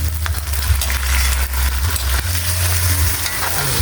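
Dried fish (tuyo) fries in hot oil in a pan alongside sautéed alugbati and sardines, a loud, close, continuous sizzle with spattering pops over a low rumble, with no one speaking.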